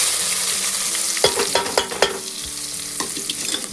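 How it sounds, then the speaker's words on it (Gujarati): Onion masala with garlic frying in a pan: a constant sizzle with several sharp scrapes and clinks as it is stirred, close and clear, with no talking. "ડુંગળીને ચડવા દેવાની છે બરાબરની"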